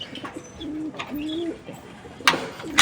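Pigeons coo in a coop in low, soft, rolling calls close by, repeating several times, with a few light rustles and knocks in the background.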